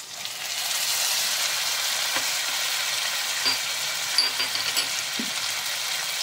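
A spice paste of green chilli, garlic, ginger and tomato, with Kashmiri chilli powder, stir-fried for a jackfruit and prawn curry: a loud, even sizzle throughout with occasional light scrapes and taps of stirring.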